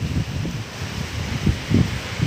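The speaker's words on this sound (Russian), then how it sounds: "Ветер с моря." Gusty sea wind at a beachside resort buffets the microphone with low rumbling bursts and a steady rushing hiss, with no talking.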